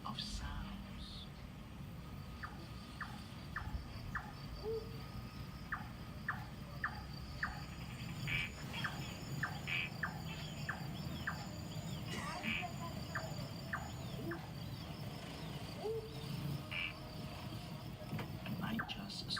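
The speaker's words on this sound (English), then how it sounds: "All set against a chorus of crickets." Crickets chirp in a nighttime forest, with repeated pulses in short bursts over a constant low rumble of background noise, moderately close and never quite stopping.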